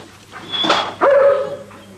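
A cave-rescue disaster dog gives two short barks, the second a higher, drawn-out yelp, close and fairly loud with nothing else around.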